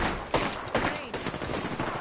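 Faint gunfire in the distance during an Apex Legends match, a couple of soft cracks rising out of a dense, busy game-noise background.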